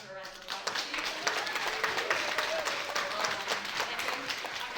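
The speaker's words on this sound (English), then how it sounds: "give her a round of applause" Audience applause after a panel Q&A at an annual film screening, steady sustained clapping from a room of people, with a voice faintly under it.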